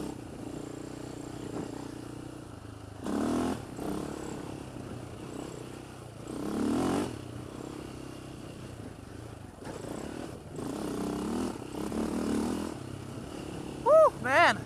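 Polaris Outlaw 525 ATV engine droning while riding, with several rising rev surges over a steady running hum, with no speech.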